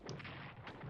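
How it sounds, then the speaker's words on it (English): Heavy artillery strikes land in the WW2 strategy game Strategic Command, a short burst of muffled, booming impacts at low level with no talk. "3 artillery strikes from the heavy artillery on my tanks."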